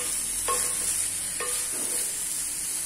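Mixed vegetables with a boiled potato and chopped coriander stirred in a pan, with two distinct spatula scrapes against a steady faint sizzle, close and alone with no voices.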